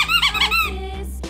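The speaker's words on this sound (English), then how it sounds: "It's a squeaky shark." A rubber shark squeeze toy gives a loud, close, wheezy squeak that rises and wavers, followed by a short high air hiss as the toy refills.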